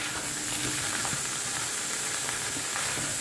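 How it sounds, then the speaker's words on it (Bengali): Mixed vegetable chorchori fries with spices in a little oil, giving a steady, close sizzle and hiss with faint stirring scrapes throughout and no talking. "দিয়ে একটু ভালো করে কষিয়ে নিচ্ছি। আমার তো খুব অল্প তেলে, যে কারণে একটু টাইম লাগে।"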